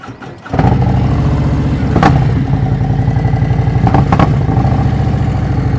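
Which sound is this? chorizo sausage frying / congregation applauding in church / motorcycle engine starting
motorcycle engine starting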